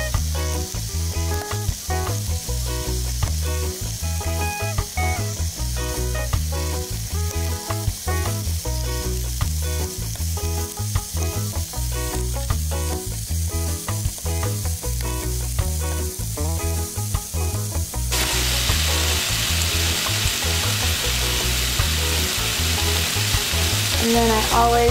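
Chicken fries in a pan with a steady, dense sizzle that runs the whole time, crackling close and loud, and grows brighter and hissier near the end.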